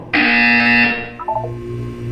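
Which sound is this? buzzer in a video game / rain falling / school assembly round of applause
buzzer in a video game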